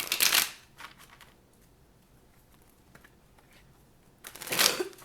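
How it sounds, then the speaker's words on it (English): Tarot cards shuffled by hand in two quick riffling bursts, one at the start and one at the end, close and crisp, with a quiet pause between. "shuffle twice, cut once."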